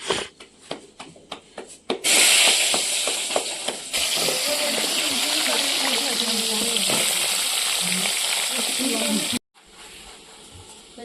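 Loud, steady sizzling of spices hitting hot oil in a village kitchen in Visavada, Gujarat, starting abruptly and running several seconds before cutting off, with clattering and voices nearby.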